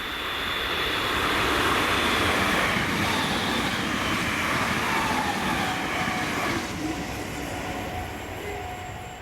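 A pair of Class 325 electric mail units, 325005 and 325012, pass on a Scottish main line. The train rushes by loudly in a swelling roar of wheels and motors, then slowly fades as it moves away.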